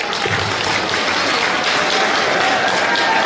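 Applause from a crowd at a political rally in Nagaur, a dense, continuous wash of clapping that stays loud and even for a few seconds, with a faint voice underneath.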